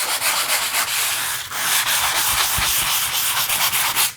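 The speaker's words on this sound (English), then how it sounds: "So very light sanding." Close, rhythmic scratchy rubbing of sandpaper on a surface, back-and-forth strokes repeating steadily with no talking.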